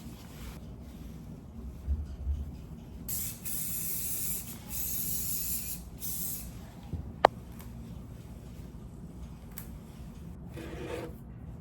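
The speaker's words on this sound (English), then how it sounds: "I have to hairspray it a little more" Hairspray hisses in repeated bursts from an aerosol can onto a finished hair bun during backstage prep on an opening night, fairly close, with rustling between the sprays.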